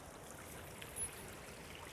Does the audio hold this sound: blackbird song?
no